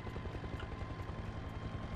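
Military helicopter in flight: a loud, continuous rotor thump with rapid rhythmic beating over a broad engine roar, steady and close throughout, with no voices.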